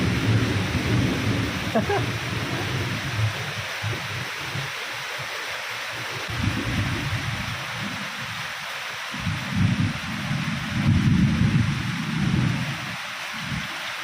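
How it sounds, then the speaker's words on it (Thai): A thunderstorm with steady, heavy rain hisses continuously while deep thunder rolls and rumbles underneath, swelling and fading in long waves throughout. "ตอนนี้ฝนครับ"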